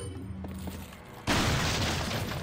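A single heavy shotgun buckshot blast in Resident Evil 4 fired against a shielded enemy, a sudden loud broadband boom erupting after a quieter stretch and ringing out densely to the end.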